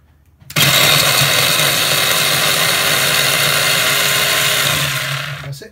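A blender runs on coriander, soy sauce and peppers for fish seasoning, kicking on abruptly with a loud, steady whirring motor drone that holds for about five seconds before winding down.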